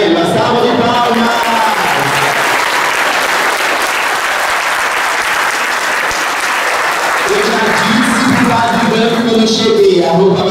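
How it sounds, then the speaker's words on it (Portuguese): An audience at a book launch breaks into sustained, loud applause, dense clapping from a sizable crowd, with a voice speaking over it near the end. "Uma salva de palmas!"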